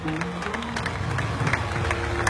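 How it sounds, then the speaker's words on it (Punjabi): Audience applause at a stage show for a young girl singer, a steady crowd clapping at moderate distance with a low murmur of voices underneath. "ਇੱਕ ਤਾੜੀ ਮਾਰਦੇ ਛੋਟੀ ਪਿੰਡ ਦੇ ਹੌਸਲੇ ਲਈ।"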